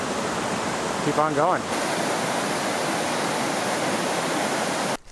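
Gooseberry Falls on the Superior Hiking Trail, a steady rushing roar of falling water close by, with a brief spoken remark early on over the noise.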